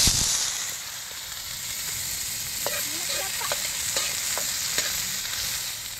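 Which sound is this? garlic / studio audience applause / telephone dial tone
garlic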